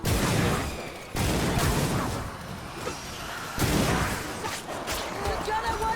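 An enemy gunner in a video game fires a dense, booming barrage of rapid shots that keeps going throughout, loud and close, with heavy low-end bursts and a voice talking over it.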